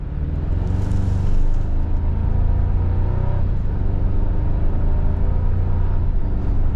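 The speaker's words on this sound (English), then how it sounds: "Turbo 4 gets the vehicle up to speed." A 2025 Toyota 4Runner SR5 4x4 with a turbo four-cylinder and 8-speed automatic accelerates from a stop, its engine giving a steady, close interior drone and low rumble that holds evenly with no talking.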